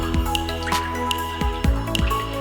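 Water from a drip irrigation line around crop roots falls in distinct, close, plinking drops at irregular intervals over a steady low background hum, with no voices.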